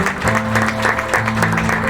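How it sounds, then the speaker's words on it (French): An audience at a graduation ceremony applauds, a crackling spread of clapping mixed with steady sustained musical tones underneath. "Il s'avance, je vous demande de l'applaudir"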